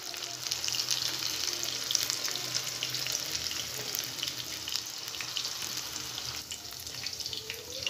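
Pakoras sizzle and crackle steadily in hot oil for kadhi pakora, a dense continuous frying hiss with small pops throughout and no voices.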